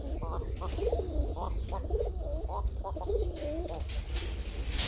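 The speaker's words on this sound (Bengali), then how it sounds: "খুব সুন্দর ডাকে বন্ধুরা, এই গুল্লা প্রচুর পরিমাণ ডাকে।" Goolla running pigeons coo steadily in repeated rolling phrases, close and continuous over a low background hum.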